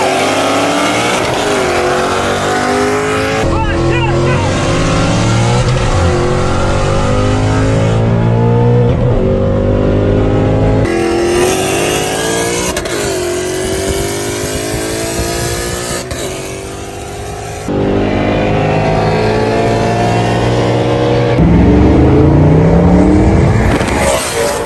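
A 700 horsepower 2013 Ford Mustang GT with an MT82 manual gearbox revs hard and loud, the engine note climbing and falling in repeated pulls, with abrupt cuts between bursts and no talking.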